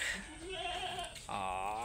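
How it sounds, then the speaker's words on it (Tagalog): A goat on a Philippine farm gives a couple of wavering bleats, the second one longer and louder, close to the listener. "Mga kambing natin."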